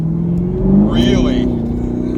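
A Chevrolet Camaro's 650-horsepower supercharged LT4 engine drones in a low, steady rumble, swelling briefly as it revs, heard from close by inside the moving car.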